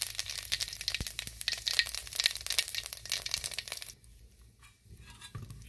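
Cumin seeds and a bay leaf hit hot oil for a curry, producing a sharp crackling sizzle with rapid pops that is loud at first, then drops to a quieter, thinner fizz partway through.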